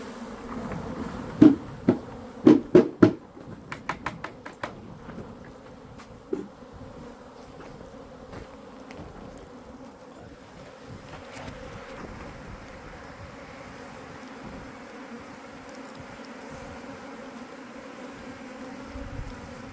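Honeybees rescued from a house soffit buzz steadily around their salvaged comb, a dense continuous drone that fills the whole stretch, with a few sharp knocks and clicks near the start.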